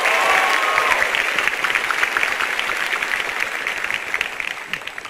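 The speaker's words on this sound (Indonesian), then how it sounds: "tepuk tangan buat kalian semuanya." Loud applause from an audience at a stand-up comedy show, dense clapping that stays strong throughout and gradually thins toward the end.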